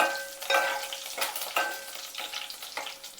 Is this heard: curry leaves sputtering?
yes